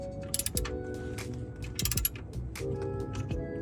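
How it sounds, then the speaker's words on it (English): Socket ratchet tightening the oil drain plug on a 2011 Subaru WRX hatchback, several short bursts of close metallic clicking separated by brief pauses, with faint shop hum underneath. "So I'm just gonna give it a little turn here with the socket."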